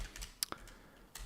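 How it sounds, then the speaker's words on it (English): A few scattered keystrokes on a computer keyboard, close and fairly quiet, with a small cluster of clicks near the start and another near the end. "if I type here select"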